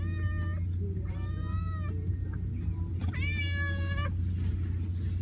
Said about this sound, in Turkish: Kedimiz miyavlıyor çantanın içinde.